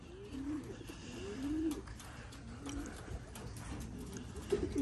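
Pigeons coo softly in a loft, several low, rolling calls repeating at intervals against quiet background noise.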